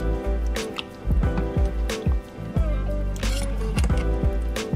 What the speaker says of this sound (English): start whisking this cheese up so it can start melting